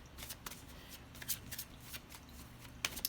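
Star Dragons oracle cards being shuffled by hand, soft riffling and slapping bursts in a quiet room, close and faint.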